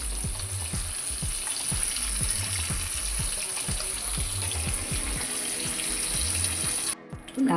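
Tomato chutney simmering in oil in a pan makes a steady, close sizzle with soft irregular bubbling pops throughout, briefly cutting out near the end before resuming.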